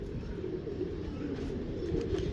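A pigeon at a Punjabi pigeon-keeper's loft cooing in low, soft repeated murmurs, faint against steady background noise, with no talk during the sound.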